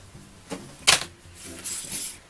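A piece is cut out of box material by hand, producing a few sharp, close snipping and crunching cuts spaced irregularly over a couple of seconds, with no talking.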